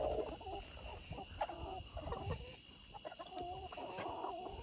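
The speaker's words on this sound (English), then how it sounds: "Chicken." Chickens clucking softly in a backyard pen at dusk, a steady scatter of low clucks and murmurs over a faint background hum, with no talking.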